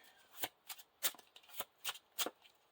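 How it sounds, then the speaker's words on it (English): Discard pile of cards from the Lord of the Rings card game being shuffled into the encounter deck, a quiet close series of about seven crisp riffling bursts at an uneven rhythm, with no talking. "we have to shuffle the discard pile into the encounter deck"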